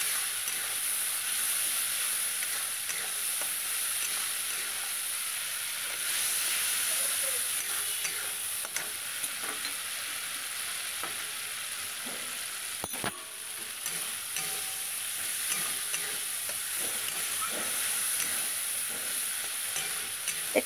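Tomato and green chilli masala sizzling in oil in a pan for oil koi fish, a steady bright frying hiss that runs throughout, with occasional stirring scrapes and one brief thump near the middle.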